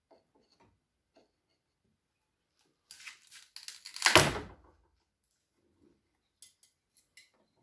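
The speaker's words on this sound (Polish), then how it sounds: "Prasa jest jeszcze nie umocowana, więc jak widać podskakuje" A newly bought workshop press, not yet bolted down, jumps and rattles as it runs. A short burst of metallic clattering rises and fades amid otherwise quiet surroundings, with a few faint ticks afterward.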